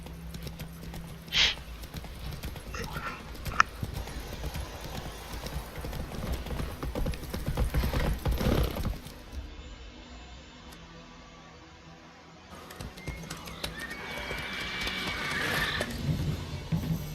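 Roach the horse galloping in Witcher 3, with rhythmic hoof clip-clops on the ground and a brief neigh, moderately loud and close, settling into quieter ambience midway before the hoofbeats return.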